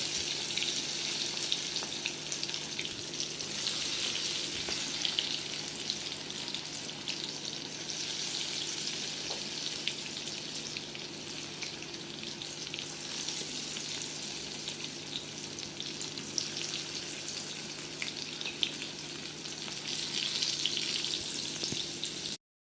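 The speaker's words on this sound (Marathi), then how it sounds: "आता तेलामध्ये मी बघा सोडते स्वीट कॉर्न पकोडे" Sweet corn pakoras dropped into hot oil, giving a steady, even sizzle and crackle of deep frying that continues without break, fairly close and with no voice over it.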